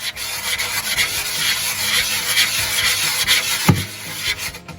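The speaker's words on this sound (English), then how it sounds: "I'm going to grab a rougher grit. This is an 80 grit, and I like to do the rim." Hand sanding the rim of a stainless steel tumbler with coarse 80-grit sandpaper, a steady, close scratchy rubbing in quick back-and-forth strokes with no one talking.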